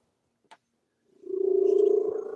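A pet cat purrs close by, a low steady rumble that starts after a brief tap and holds with rhythmic pulsing to the end.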